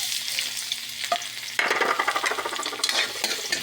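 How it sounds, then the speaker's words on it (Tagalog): Garlic sizzles loudly in a hot pan with leftover lumpia meatballs, carrots, pepper and hotdog for Filipino spaghetti, a steady frying hiss that jumps louder as the garlic hits the oil, with stirring scrapes throughout. "Lagyan na natin ng bawang."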